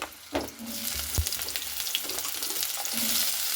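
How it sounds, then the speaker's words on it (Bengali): Cut potatoes frying in hot mustard oil in a pan, a loud, close, continuous sizzle with occasional stirring clatter, no voices over it. "আলুটা আমার খুব ভালো করে ভেজে দিতে হবে লাল লাল করে"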